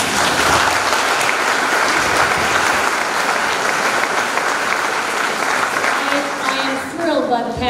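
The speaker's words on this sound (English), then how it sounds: "Now that you have applauded for all of them" An audience at a Democratic candidates' debate for New York's 19th district applauds the candidates, giving steady, loud, sustained clapping throughout with a voice speaking over it.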